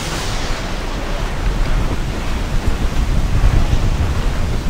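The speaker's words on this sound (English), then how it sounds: "Storm there, Captain! Look back!" Stormy sea in Assassin's Creed 4 Black Flag, with heavy surf and gusting wind roaring loudly and continuously, swelling toward the end.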